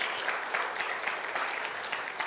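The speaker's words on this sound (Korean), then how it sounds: "하나님께 영광의 박수 크게 올립니다." A church congregation claps loudly together during a worship service, producing a dense, steady wash of applause that carries on without pause.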